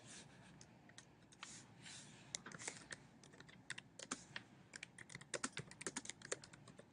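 Fingers typing on a computer keyboard, a quiet, close patter of light key clicks with uneven rhythm, speeding into denser bursts toward the end.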